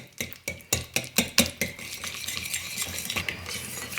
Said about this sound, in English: I'm just gonna mix it around before I add in my honey.